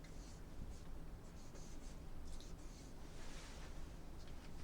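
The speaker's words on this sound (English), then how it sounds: "So we got that the apothem is 5 times the square root of 3. I'll write that over here." Pen or marker scratching out a geometry calculation for a hexagon's apothem, a soft, steady scribble with brief strokes and pauses, close and alone over a low hum.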